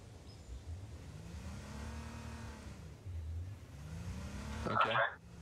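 Jeep engine in H1Z1 King of the Kill, a steady mid-pitched drone rising and falling in pitch as it accelerates and drives, with a brief clatter near the end and speech in the background.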